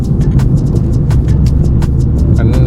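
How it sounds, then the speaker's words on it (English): A Fiat 500 drives along a country back road, its engine a steady, loud low rumble throughout with faint higher ticks and rattles over it and no talking. "this car is driving absolutely sweet now"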